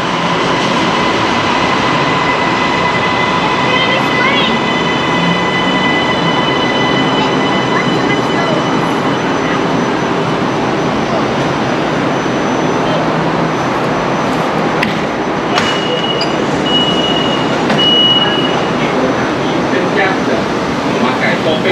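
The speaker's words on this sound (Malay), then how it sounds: "Here comes our train." Kajang Line metro train pulling into a station in Kuala Lumpur, a loud, steady rumble and hiss with tonal whine and a brief high squeal of brakes, along with station announcements in the background.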